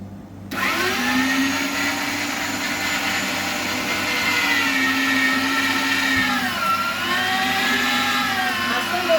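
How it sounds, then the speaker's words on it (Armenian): An electric meat grinder grinds beef, pork fat and onion together, a steady close motor whine that starts abruptly and holds with a slight dip in pitch under load near the end. "պահին աղալու եմ տավարի միս 1 կիլոգրամ, կես կիլոգրամ խոզի սալ և 750 գրամ սոխ"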